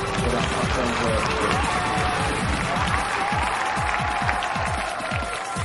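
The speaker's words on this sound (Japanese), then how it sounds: "すごい歓声です。" A large crowd at a Darkstalkers tournament match applauds and cheers in a dense, continuous roar of clapping.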